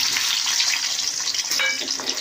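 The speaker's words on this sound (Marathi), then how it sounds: "तेलात आपण आपले बटाटे घालून घेऊया" Loud, dense hiss and crackle of potatoes frying in hot oil, constant and close with no voices.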